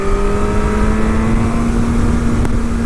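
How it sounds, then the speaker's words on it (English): An MV Agusta 1090 Corsa motorcycle's loud exhaust drones up close at high revs, a sustained, strained engine tone that holds steady throughout while the bike is ridden hard. "I'm not sure if you can hear that exhaust."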